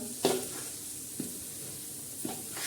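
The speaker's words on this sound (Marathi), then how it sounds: "आता छान असं हे भाजून घ्यायचा हा आपला लोणचे मसाला" Pickle spice masala roasts in a pan, a faint low hiss of dry toasting punctuated by three soft scraping stirs spread across the few seconds, with no voices.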